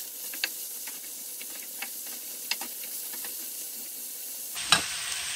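Mushrooms frying in oil in a pan make a steady faint sizzle, broken by occasional soft clicks of a utensil spreading them around and a sharper clatter near the end.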